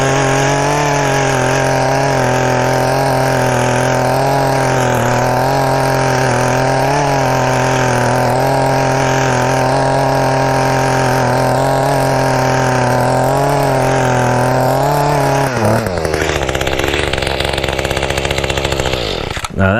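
An Echo TC-210 gas tiller churns rocky garden soil, its two-stroke engine buzzing loud and close with a wavering pitch as the tines catch stones, then dipping sharply near the end.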